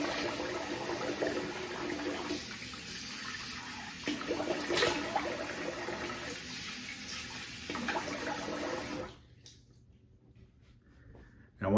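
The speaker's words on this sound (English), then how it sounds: "I'm gonna rinse the face here" Tap water runs steadily during a face rinse after a shave with a safety razor, a close hissing flow with faint splashes that stops abruptly near the end, leaving quiet room tone.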